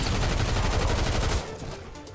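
Rapid SMG fire in Fortnite, a dense burst of shots that stops partway through, followed by quieter game ambience.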